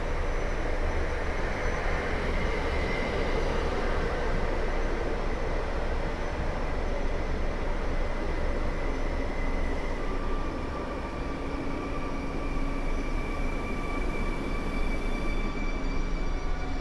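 Two Koleje Mazowieckie FLIRT electric trains pull away from Warszawa Zachodnia station, a loud, continuous rumble and roar with rising motor whines, close and steady throughout.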